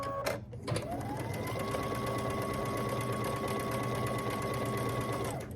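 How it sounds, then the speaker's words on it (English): A sewing machine runs in one steady, unbroken stitching run while joining quilt squares for a charm or scrappy quilt, with a close, even motor whir after a brief clunk at the start. "I'll stitch down that line."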